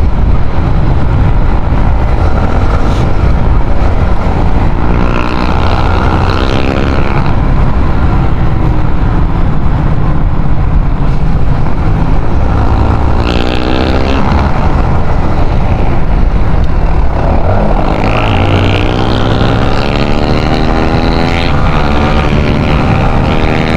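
A Suzuki GSX-S150 and a Yamaha Sniper 155 with an aftermarket exhaust pipe run on the road, loud continuous engine roar with revs repeatedly rising and falling, close throughout.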